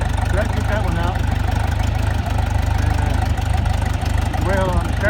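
A farm tractor idles steadily on wet ground during hay bale feeding for cattle, its low, even engine rumble running continuously and fairly close, with faint voices over it.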